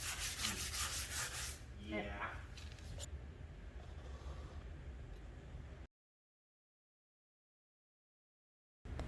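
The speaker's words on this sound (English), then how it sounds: "super fine sanding sponge and lightly go over the surface to give it a little bit of a worn look" A super fine sanding sponge is rubbed lightly over painted furniture with a decal transfer, giving a soft, close scratchy rasp that fades partway through before the sound cuts out into silence.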